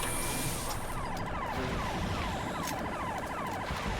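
Police car sirens wail in Halo 3: ODST, several rising and falling sweeps repeating over a loud, steady backdrop of in-game ambience, with no voices.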